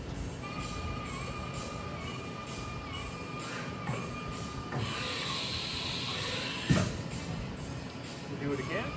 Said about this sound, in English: All right, we'll do a couple tool changes.